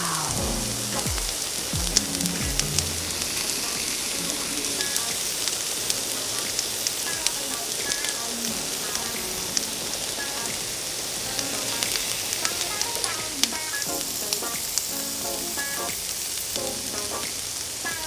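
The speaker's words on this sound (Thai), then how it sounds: "กำลังจะเอาไก่ลงกระทะ ซูซูซาซากันแล้วนะคะ" Loud, continuous sizzling and crackling of chicken frying in a hot oiled pan at a campsite, with scattered pops throughout and no voices.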